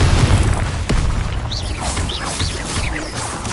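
Confringo fire spell blast in Hogwarts Legacy, a loud booming impact at the start followed by a rumbling roar with a sharp crack and whooshing, crackling tail effects.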